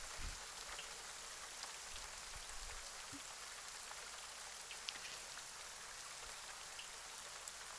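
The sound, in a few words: rain ambience sound effect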